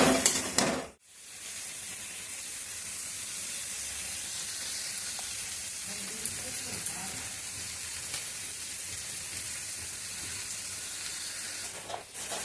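Bottle gourd greens cooking in a pan with mustard paste, sugar, turmeric and a little water, producing a steady, even sizzle throughout after a brief break near the start, with no talk.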